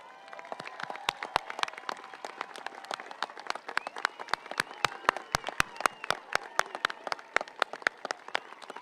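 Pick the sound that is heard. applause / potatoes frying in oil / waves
applause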